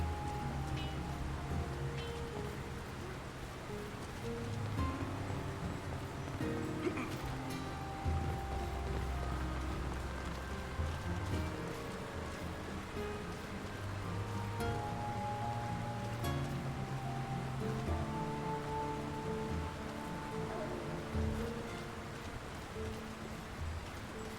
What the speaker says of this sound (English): Who could live in a town where it's always raining?